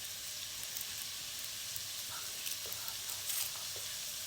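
Garlic frying in a pan with chicken, a steady close sizzle with soft crackles and occasional stirring clinks throughout.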